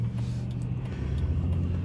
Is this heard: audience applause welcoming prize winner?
no